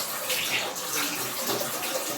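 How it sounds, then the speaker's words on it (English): Cool tap water runs steadily and splashes while a face is rinsed, a dense continuous rush close to the microphone. "I'm just using ordinary water, cool water from the tap"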